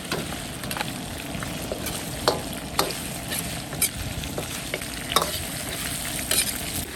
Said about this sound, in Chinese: 然後翻炒。